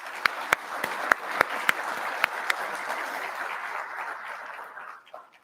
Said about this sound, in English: I'd like to give them a round of applause for all the staff at